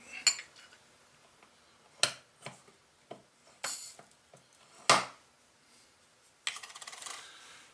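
Brief light clatters and small granular rattles as a powder charge drops from a Brass Smith powder measure, scattered across a quiet background, several sharp ticks and one longer sandy trickle near the end.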